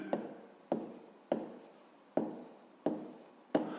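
A pen writing on paper during a Grade 5 maths lesson on centimetres and metres, in six quick strokes that each start with a sharp onset and then scratch away, close and fairly soft, with no talking.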